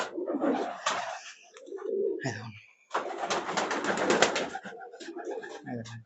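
Pigeons cooing inside a loft of high-flying birds, several close, throaty rolling coos in bursts with short pauses, loud and near.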